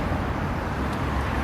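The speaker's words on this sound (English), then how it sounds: "it's hard to not listen to all the cars going past" Steady roadway traffic from cars going past on a street during an outdoor walk, a continuous low broadband rumble and hiss with no distinct single pass-by.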